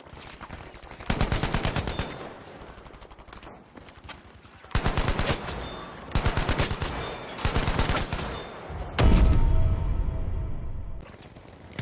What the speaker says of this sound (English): It really, really is amazing at tap fire